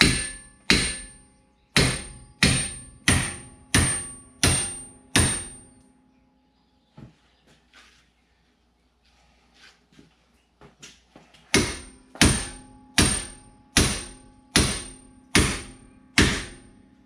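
Sharp hammer blows on brake parts during a brake job, struck in two rapid series of about seven evenly spaced metallic hits each, with a quiet gap and a few faint knocks between them.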